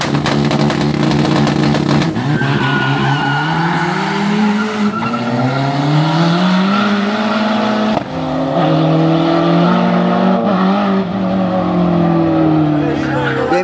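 A BMW at a burnout event holds a loud, continuous tire screech while its engine revs and climbs in pitch, close and intense for the whole stretch, with a commentator's voice mixed in.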